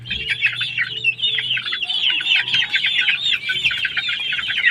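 Crossbred hens cluck and chatter continuously at feeding time, a busy, close flock of overlapping calls.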